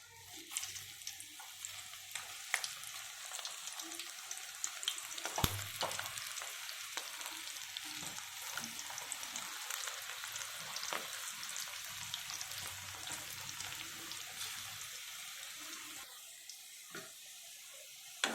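Okra pakoda (bhindi fritters) fry in hot oil with a faint, steady crackling sizzle, punctuated by occasional clinks and scrapes of a utensil, quiet and close with no talking.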